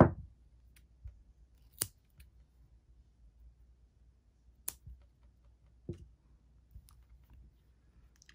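Scissors snipping crochet yarn while making a crocheted doily, a few sharp isolated clicks and snips spaced several seconds apart in a quiet room, close and crisp.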